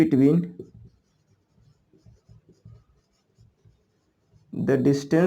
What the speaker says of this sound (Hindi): देखिए ब्लू से लिख रहे हैं